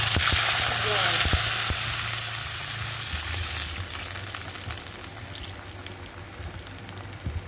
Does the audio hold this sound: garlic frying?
yes